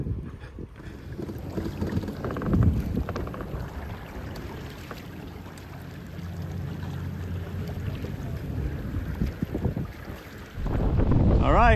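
Pearson 26 sailboat under sail on a breezy day, with steady wind rushing across the microphone and water noise around the hull, growing louder toward the end.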